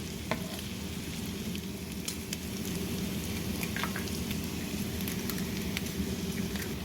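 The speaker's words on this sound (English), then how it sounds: "I'll probably just pull it over on the side over here so I can cook my eggs" Eggs frying in a pan alongside a keto breakfast hash, a continuous close sizzle with scattered tiny pops and crackles and no talking.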